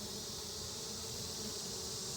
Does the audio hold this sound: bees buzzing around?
yes